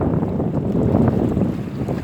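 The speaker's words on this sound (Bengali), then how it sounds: "সমুদ্রের পানিটা শব্দটা শুনি" Sea waves at a rocky beach in Cox's Bazar wash in a loud, low, continuous rumble mixed with wind buffeting the microphone, close and unbroken with no talk.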